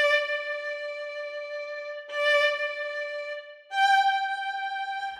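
Sampled orchestral strings play forte-piano articulation, three sustained notes each opening with a strong accent and then dropping to a softer held tone, clear and alone.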